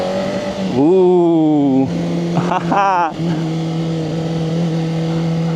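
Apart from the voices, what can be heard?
VOGE RR500S inline four motorcycle engine accelerating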